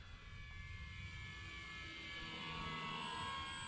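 An FMS PA-18 Super Cub RC airplane makes a low, slow pass over a runway, its small motor droning faintly and steadily and swelling slightly as it nears.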